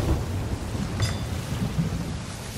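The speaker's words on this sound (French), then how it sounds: "On a pris un orage." Thunderstorm in the Sea of Thieves pirate video game: steady heavy rain and wind with a sharp crack of thunder about a second in, no talking.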